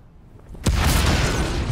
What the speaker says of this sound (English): That was a weak ass bomb though.